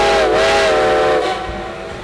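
A steam locomotive's whistle on America's oldest railroad blows a loud, sustained harmonic howl that holds steady and then tails off as it echoes across a valley.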